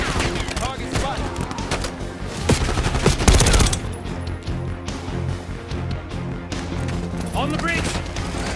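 Rapid bursts of automatic gunfire from a Black Ops 6 battle rattle loudly and continuously as covering fire, with dense overlapping shots and booms throughout.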